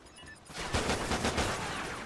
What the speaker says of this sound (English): every single pistol bullet missed.